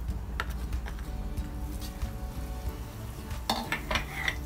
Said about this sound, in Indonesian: bumbu yang tadi sudah disiapkan, dihaluskan, lalu ditumis dengan sedikit minyak. Panaskan minyak di atas wajan.